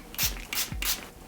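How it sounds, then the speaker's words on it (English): A face setting spray is pumped three times in quick succession, each a short, close, hissing burst of mist with a faint click, separated by brief pauses. "So I'm going to do a few sprays of this."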